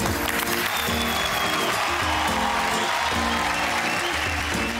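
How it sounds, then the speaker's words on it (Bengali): Studio audience on a Bengali TV game show breaks into loud, sustained applause, dense clapping filling the whole moment without a break. "একটা জোরে হাততালি"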